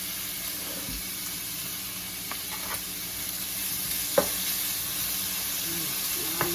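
Bacon and ham fry in a pan for carbonara, giving a steady close sizzle and hiss, broken by a few soft clinks of stirring.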